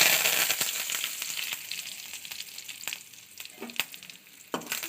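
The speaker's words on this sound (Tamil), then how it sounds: "கொஞ்சம் நல்லா வதக்கிக்கலாம்" Ivy gourd sautéing in a pan with crushed garlic, curry leaves and fennel seeds, giving a steady close crackling sizzle with frequent sharp pops and spatters, and a few light stir clinks, with no voices.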